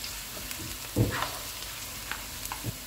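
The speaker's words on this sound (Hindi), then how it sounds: "इसमें अदरक और लहसुन का पेस्ट डालेंगे। इसको 1 मिनट तक भूनेंगे।" Ginger garlic paste fries with onions for vegetable biryani, a steady sizzle under irregular scraping stirs, one stronger stir near the start and lighter ones later.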